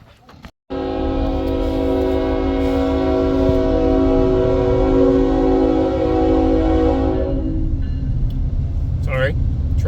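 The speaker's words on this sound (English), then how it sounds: "Sorry, train." A passing train sounds a long, loud sustained horn blast for several seconds over heavy rumbling of the cars, then the horn cuts off while the rolling noise continues close by.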